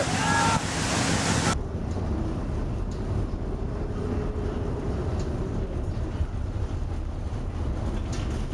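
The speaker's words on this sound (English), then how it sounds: "a large Greek chemical tanker has collided with giant waves in the North Sea" Giant storm waves strike a large Greek chemical tanker in the North Sea, a continuous roaring wash of surf and wind that opens with a brief, harsher burst of noise.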